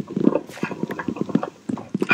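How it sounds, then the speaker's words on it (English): Hooves of a ghost horse clip-clopping in a quick, steady rhythm, close and fairly loud, with no voices over them. "I saw a ghost horse with a stupid ghost horse face"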